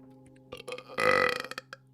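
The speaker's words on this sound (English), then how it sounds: "I burped, you guys." A single loud, drawn-out burp comes close to the mic, rumbling for about a second with a few shorter gulping bursts around it.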